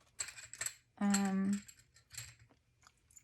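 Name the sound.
scissors cutting dried orange peel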